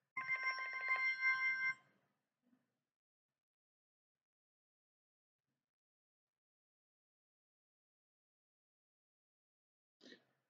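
A telephone bell rings loudly for nearly two seconds in a quiet room, followed by long silence broken only by a tiny click and a brief faint sound near the end.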